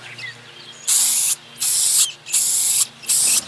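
Purple aerosol spray paint hisses onto a car engine in four short, even bursts with brief pauses between them, close and fairly loud.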